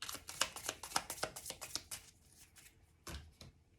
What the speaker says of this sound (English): These are really hard to shuffle.